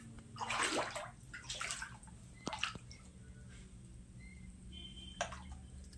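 Rainwater sloshing inside a flooded cosmetics shop during the monsoon, with soft splashes and swishes of water, a few sharp taps and drips, over a steady low hum.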